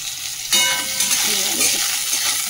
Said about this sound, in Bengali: সোয়াবিনটা একটুখানি নুন হলুদ দিয়ে ভেজে নেব